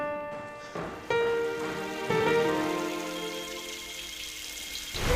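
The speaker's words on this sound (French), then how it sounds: "Il pleut." Rain falls steadily as a soft, continuous hiss, with sustained musical tones ringing over it and no one speaking.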